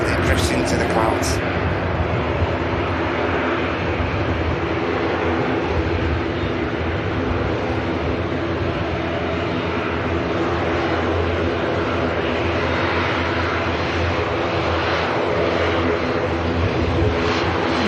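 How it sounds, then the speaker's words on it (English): An Aer Lingus ATR 72 turboprop taxis past at Manchester Airport, a steady droning engine hum with a persistent low tonal whine holding level throughout, moderately distant. "ATR 72 taxiing past us, heading out to the Isle of Man, the airport where it arrived in from."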